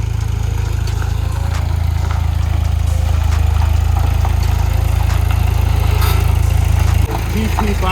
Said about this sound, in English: So Dave got a tractor, and I do have some clips of him picking it up